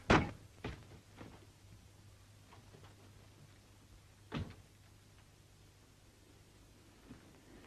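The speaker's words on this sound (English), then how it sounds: "Go ahead, knock." Sharp raps on a door come in separate clusters, a loud knock at the start and another a few seconds later, against a quiet background with a low steady hum.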